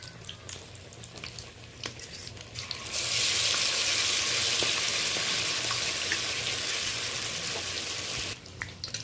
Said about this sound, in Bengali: দুটো করে আমি একসাথে ভেজে নেব।